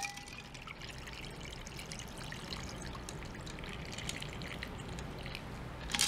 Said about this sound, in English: we're gonna pour that right over the top